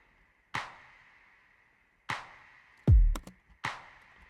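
Layered snap, clap and rim shot hits with a kick drum from the first chorus of a pop production, sparse and dry: three sharp bright snaps spaced apart, with a deep booming kick and quick rim clicks between them.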